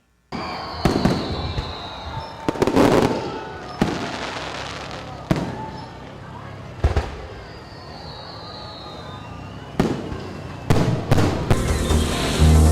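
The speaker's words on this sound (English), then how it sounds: "the raising of the golden arrowhead and the fireworks display to usher in Independence Day" An Independence Day fireworks display set off after the raising of a flag, with loud sharp bursts and crackling explosions every second or two, some distant and booming, others near and crisp, over a steady crowd murmur.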